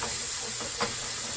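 Chili peppers frying in a hot pan, a brief steady hiss and sizzle with a faint scrape or tap partway through, close and without talk.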